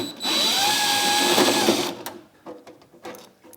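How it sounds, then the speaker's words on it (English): A cordless drill whines up and spins steadily for nearly two seconds, driving a self-tapping screw into a factory hole on a diesel heater install, then stops, leaving quieter handling clicks and knocks. "I just use a self-tapping screw in one of the factory holes here."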